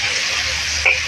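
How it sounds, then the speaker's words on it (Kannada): Drumstick pods sizzle in hot oil in a pan, a steady close frying hiss with a brief louder spatter near the end and no talking. "ಇದ್ರಾಗೆ ಎಣ್ಣೆ ಕಾದಿದೆ. ಇದಕ್ಕೆ ಒಂದು 4-5 ಹಾಕ್ಕೊಂಡು ಫ್ರೈ ಮಾಡೋಣ."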